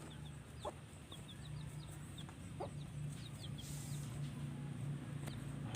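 Chickens and ducks on a small farm cluck in short scattered calls over a steady low hum, fairly close, with no one talking.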